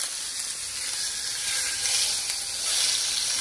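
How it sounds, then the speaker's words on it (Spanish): Pork chops browning in hot oil in a home kitchen pan: a steady, close, dense sizzle and crackle that holds evenly throughout, swelling slightly near the end, with no talking over it. "ya vamos a poner las chuletas a dorar"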